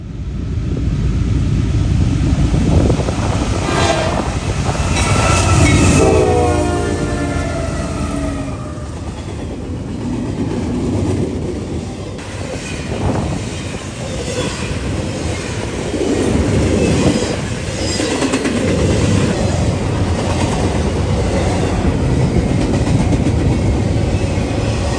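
Norfolk Southern's NS 276, a daily Chicago-to-Norfolk intermodal freight, rolls southbound past Delaware, Ohio. It makes a loud, close, sustained rumble of wheels and cars with clattering rail joints and a squealing wheel tone throughout.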